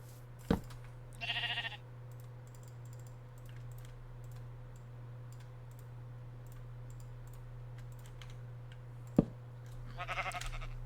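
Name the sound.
sheep bleating in a video game (Minecraft)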